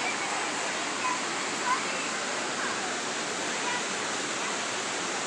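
Ocqueoc Falls near Rogers City and Millersburg, Michigan, rushes in a constant dense roar of falling water, steady and close throughout.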